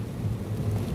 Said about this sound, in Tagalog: Dahil sobrang lakas ng ulan